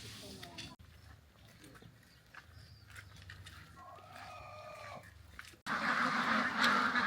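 A flock of ducks in Vietnam gives intermittent honking, quacking calls, faint at first and then louder near the end, with people talking over them.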